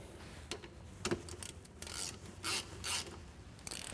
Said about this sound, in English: we'll reinstall the plug and then torque to spec